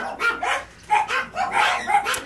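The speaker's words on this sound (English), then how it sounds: "any birds from my flock, any babies, are used to doggies barking." Dogs bark in a quick, repeated series of close, sharp yaps, several barks in a row with no talking.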